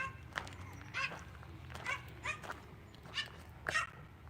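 Two dogs at a home during a live broadcast bark and yip in short scattered bursts, faint and somewhat distant, with a few whimpers between barks and no talk over them.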